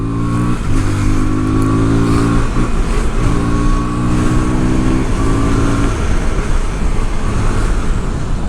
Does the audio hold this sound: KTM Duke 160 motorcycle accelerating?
yes